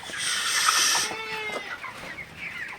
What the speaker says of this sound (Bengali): আমি এখানে পঞ্চান্নটায় মোরগ রাখছি